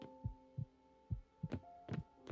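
A low, throbbing heartbeat loop plays in Lovecraft's Untold Stories, with several paired thuds over a faint steady drone and no speech.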